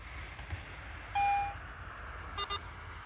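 A Garrett metal detector gives a signal over a find: a steady electronic beep of about a third of a second, then two quick short beeps, near and clear above a low outdoor rumble.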